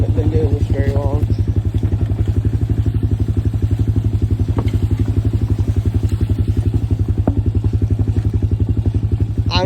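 Honda Recon 250 quad four-wheeler engine running at a steady idle, a loud, continuous low rhythmic putter with light mechanical clatter and occasional brief clicks throughout.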